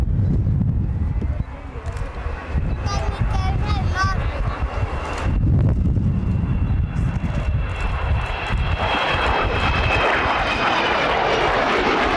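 Avro Vulcan XH558 bomber during its last flying display at RAF Fairford, a loud continuous jet engine roar with wind buffeting, swelling and holding throughout, under a voice speaking.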